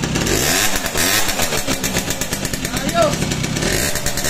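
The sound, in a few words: motorcycle engine started and revving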